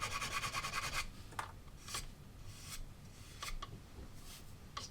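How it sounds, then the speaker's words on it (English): A sanding stick's coarser side rasps quietly over a ridge of glue on a plastic model build: a quick run of rapid back-and-forth strokes, then a few slower, scattered scrapes close by. "Just to knock the worst of that height down with the slightly coarser side of the sanding stick"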